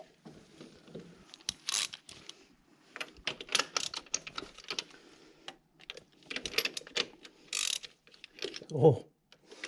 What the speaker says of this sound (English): First thing we're going to do is pull the spark plugs